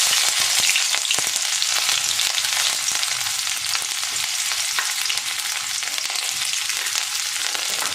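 Chopped onion sizzles steadily in a hot pan while bottle gourd leaf and small prawn dishes are made, a dense, loud hiss that continues unbroken, with faint clicks of stirring scattered through it.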